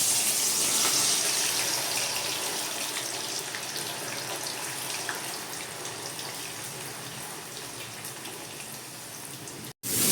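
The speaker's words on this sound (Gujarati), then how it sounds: "જોવું હોય તો વરસાદ તો જો આવે" Steady rain falling outdoors in a continuous soft hiss with scattered drips, moderately distant and even throughout, fading slightly toward the end before a brief cut.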